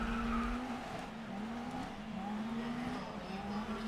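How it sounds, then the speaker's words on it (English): Electric race car in the GRID Legends racing game, a sustained engine whine with a steady tonal pitch that rises and dips slightly, close and continuous with faint tire noise underneath. "It's electric with a 7-speed transmission and engine sound and fire out of the exhaust."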